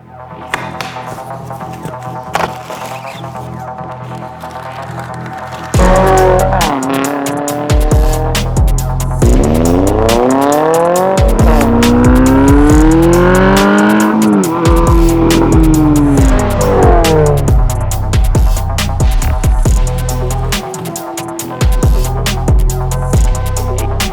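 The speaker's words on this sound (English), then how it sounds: "Today we're going to be installing some AWE exhaust products on our 23 BRZ." A 2023 Subaru BRZ with an AWE exhaust revs hard and repeatedly, its exhaust rising and falling in pitch with loud, raspy bursts, close and with no talking.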